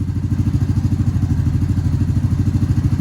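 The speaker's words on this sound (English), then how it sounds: "I'm sitting here next to the bike running" A Honda Grom motorcycle's small engine runs close by with a loud, steady, pulsing low putter and a faint mechanical clatter, no speech.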